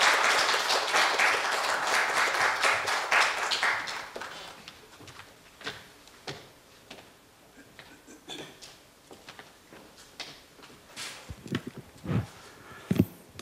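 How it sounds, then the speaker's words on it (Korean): Audience applause welcoming a urology lecturer at a Korea University health forum on prostate cancer, dense clapping for about four seconds, then thinning to scattered claps and small room sounds. "큰 박수로 환영해 주시기 바랍니다."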